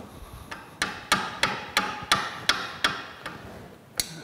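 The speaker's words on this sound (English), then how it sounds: "I'm going to take a lead hammer here and see if I can kind of shock them a little bit to get them turning." A lead hammer strikes seized parts of a White Mountain ice cream churn being disassembled for restoration, giving about ten sharp, evenly spaced metallic blows, close and loud, with a brief pause before the last strike.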